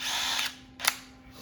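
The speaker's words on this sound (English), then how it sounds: "I'm going to take and drill a 1/2 inch in" A power drill with a 5/64 bit whirs briefly into a guitar body, then stops, followed by a short mechanical click and a quieter tail, close up with no talking.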